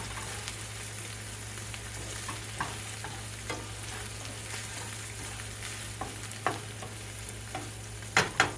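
Slices of eggplant browning in a frying pan, a low steady sizzle of hot oil broken by occasional scrapes and clacks of stirring, growing a little busier near the end, with no talking.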